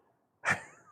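Frida the dog lets out a single short, loud bark close by in a kitchen, breaking a near-silent pause, followed by a brief fading tail.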